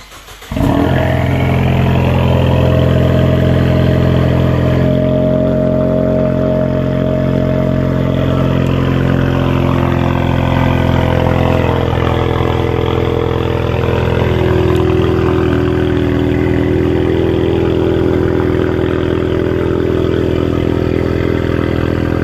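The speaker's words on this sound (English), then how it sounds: "I do want to start this up before my nephew goes to sleep, because it is relatively a little bit on the loud side when it's on a cold start." A car's engine cold-starts with freshly fitted exhaust tips, catching abruptly and settling into a loud, steady, rumbling idle that holds for about twenty seconds without talk.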